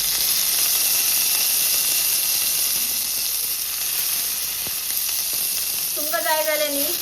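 Spring onion greens sautéing in a pan for veg pulao, a steady close sizzle and hiss of frying with faint stirring scrapes throughout, and a voice speaking briefly near the end.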